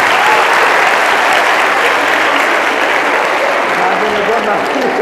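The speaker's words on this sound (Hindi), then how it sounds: "ताली होनी चाहिए।" Sustained applause from an audience at a lecture, dense steady clapping that fills the whole stretch at high volume, with no other sound standing out.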